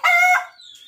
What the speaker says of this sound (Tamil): சேவல் ரொம்ப அட்டகாசம் பண்ணுது.